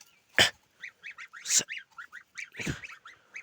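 Several geese honk in quick, repeated bursts, close by, with a few louder broadband splashes or flaps between the calls.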